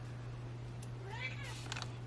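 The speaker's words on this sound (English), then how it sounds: "cat found me for the first time since she decided to nap." A domestic cat meows faintly in a quiet room, a short rising call followed by a brief second cry, over a steady low hum.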